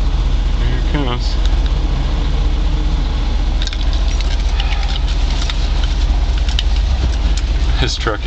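A snowplow truck's engine rumbles steadily nearby at Buck Creek, a deep continuous drone with clanks and rattles scattered over it as it comes closer.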